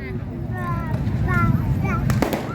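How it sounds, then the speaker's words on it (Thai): Firecrackers at a Loy Krathong festival by the Red Bridge in Rangsit, 2023, give a few sharp, close pops near the end, over a steady crowd murmur and nearby talking voices. "นู่นมีประทัดด้วย"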